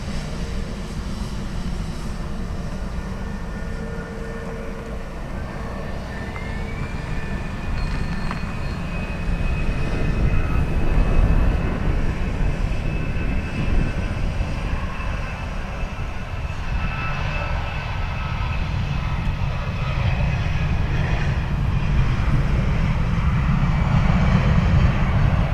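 A fixed-wing airliner at Dublin Airport, its engine roar building into a loud, sustained rumble and whine that swells over about twenty-five seconds without speech.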